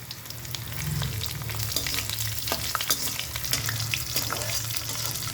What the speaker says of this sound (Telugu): 1/2 స్పూన్ జీలకర్ర వేసుకున్నామా. ఫ్రై కానీ అమ్మ, ఇది వెల్లుల్లి వేసుకుందాము